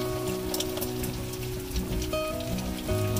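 Steady rain patters on a surface during overnight squid fishing in Vietnam, with scattered droplet hits and faint tonal hums in the background.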